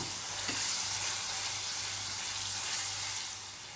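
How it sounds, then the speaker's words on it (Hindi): Tomato puree cooks in a pan over a medium gas flame, producing a dense, steady bubbling hiss that swells and eases slightly as it is stirred. "टोमेटो की प्यूरी, इसे अच्छी तरह से मिक्स कर लेंगे।"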